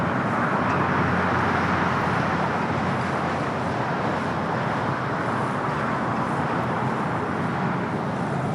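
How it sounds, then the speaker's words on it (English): Boeing 777-200ER rolling for takeoff on runway 24 left, a steady broadband jet roar that stays loud and even throughout with no voices over it. "That's 777 200 ER now rolling down to 24 left."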